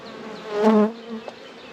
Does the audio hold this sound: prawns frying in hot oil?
no